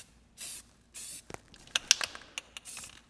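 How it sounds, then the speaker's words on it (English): Short spray-can bursts hiss out as primer is sprayed onto a steel grinder stand in a makeshift booth: two clear blasts, then a run of rattles, clicks and brief sprays close by. "spray painting things is like one of my favorite parts of the process"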